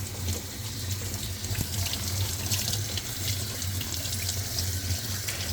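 Tap water runs steadily into a kitchen sink while seafood for a seafood boil is rinsed under it, a close, continuous splashing stream with no talk.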